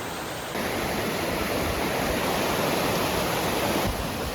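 A river in Great Smoky Mountains National Park, near a balance-beam crossing on the Mt LeConte trail, rushes as a loud, steady, unbroken roar with no voices.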